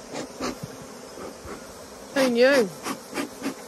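Honeybees buzz around opened hives during a honey harvest. A loud bee drones close past with a wavering pitch, and fainter buzzing and brief human voices surround it.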